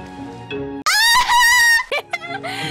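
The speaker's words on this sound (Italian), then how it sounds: "Ho sentito un pollo!" Chicken sound in the video game Minecraft: a loud, close, sustained squawking cry with rising harmonics, heard alone after quieter tonal game sounds, followed by a few short clucks.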